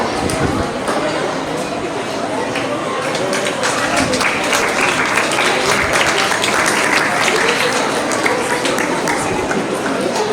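School hall audience at a science lab inauguration and farewell event clapping loudly, a sustained dense burst of applause lasting about ten seconds with voices in the background.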